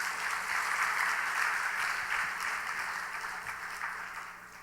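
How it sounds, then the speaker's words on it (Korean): A church congregation claps together during a Sunday evening service, a steady, fairly distant wash of applause that holds evenly and then gradually fades. "박수 한번 하십시다."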